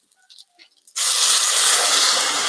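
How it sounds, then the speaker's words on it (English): Quinoa vegetable soup in a hot pot bursts into a loud steady sizzle and hiss as boiled water from a kettle is poured in, after a second of faint quiet clinks. "You can probably hear it sizzle."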